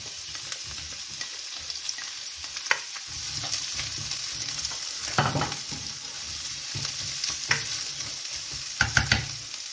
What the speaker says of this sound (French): On va y faire revenir notre oignon et notre ail.